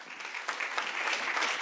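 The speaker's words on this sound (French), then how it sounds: "je vous propose d'applaudir cette signature" An audience at an opening-speech ceremony applauds the signing of a convention, a steady moderate patter of many hands heard from a distance.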